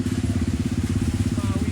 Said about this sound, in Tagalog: big bike tumawid sa hanging bridge